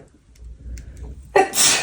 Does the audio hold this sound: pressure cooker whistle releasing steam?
no